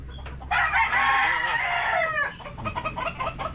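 Chickens at a farm cluck and a rooster crows nearby, with a loud crowing call up front trailing into scattered clucks and low background voices.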